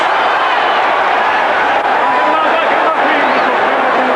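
Boxing match crowd in an arena, a dense, steady roar of many voices rising and swelling throughout, loud and close with no clear single speaker.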